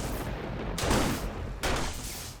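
Two loud, booming rifle shots from an unscoped rifle in the co-op survival game 7 Days To Die, fired almost a second apart over a steady background rumble, with no talking.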